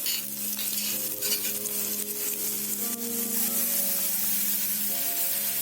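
Ground coconut and dal paste hits a curd-based curry in the pan, giving a bright sizzle and frying crackle with scraping stir strokes, fairly close and continuous.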